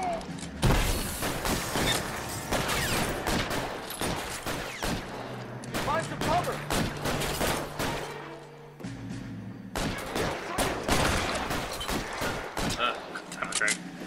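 Rapid bursts of gunfire in the video game L.A. Noire, loud repeated shots in clusters with short pauses, mixed with impacts and a voice speaking intermittently over the action.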